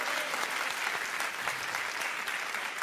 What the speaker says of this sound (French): On peut applaudir Reda, s'il vous plaît.